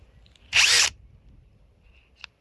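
A Bosch GSR 12V-35 FC 12-volt cordless drill gives a single short whir of about half a second, loud and close, followed by faint clicks and quiet surroundings.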